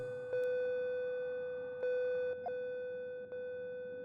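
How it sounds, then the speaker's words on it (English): A telephone rings with a steady electronic tone, sounding in a few even pulses over a low background rumble, moderately faint. "The phone rings."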